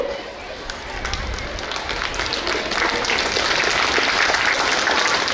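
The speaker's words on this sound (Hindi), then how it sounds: "देखिए मुझे कहना नहीं पड़ा तालियों के लिए।" Audience applause at a grandparents celebration event, a dense continuous wash of clapping from a sizable crowd held at a steady, fairly loud level throughout.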